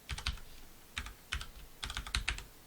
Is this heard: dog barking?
no